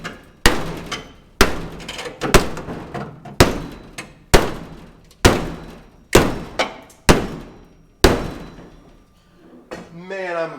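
Hammer blows bashing a dent out of a car body panel: about ten loud, sharp metallic bangs at a steady, slightly uneven rhythm, each ringing briefly before the next, close by with no talking.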